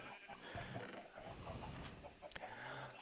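Chickens in the video game Magicians Life cluck quietly and keep going, a faint layered farmyard chatter under a noisy game background with a brief sharp click near the end.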